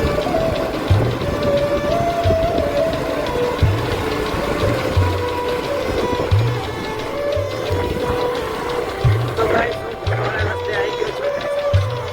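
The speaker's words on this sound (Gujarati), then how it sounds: "મારું બાઇક જઈ રહ્યું છે મસ્ત" A motorcycle rides along a rural road between Malan and Malpura near the Balaram forest, its engine thrumming with a steady pulsing throb and road rumble, heard from the rider's position.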